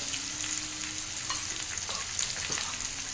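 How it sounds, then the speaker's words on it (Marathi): Raw mango pieces frying in a pan, a steady close sizzle with a few faint stirring clicks throughout. "समोर छान परतली आहेत आपली कैरी"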